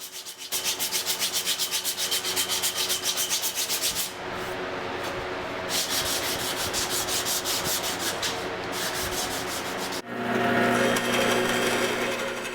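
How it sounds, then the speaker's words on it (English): A slack belt sander rounds and smooths a wooden hammer handle in a small blacksmith shop, a continuous loud abrasive rubbing with a rapid rhythmic flutter, pausing briefly and shifting in tone as the handle is repositioned. "Use a slack belt here to round off the hammer handle and do a little more sanding here"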